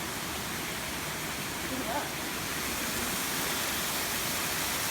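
A waterfall pours through a hollow in the rock of a creek in subtropical rainforest, producing a steady, broadband rushing hiss that stays even and continuous throughout.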